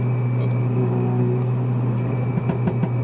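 A Stage 3 Renault Megane IV RS Trophy R held around 4000 rpm in RS mode, a steady engine drone broken near the end by three quick exhaust pops.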